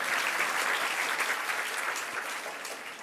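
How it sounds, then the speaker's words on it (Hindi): An audience at a religious sermon in Jabalpur claps steadily, a dense sustained applause that fills the space without a break and tapers slightly toward the end. No voices are heard over it. "तालियां बजा ली।"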